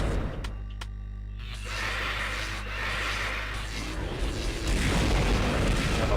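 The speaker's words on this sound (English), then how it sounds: "These handheld naval cannon shells are doing nothing to him" Heavy booming blasts from naval cannon shells in the game Larva Mortus, several deep explosions with rumbling low-end tails, a dense burst of repeated impacts building louder toward the end.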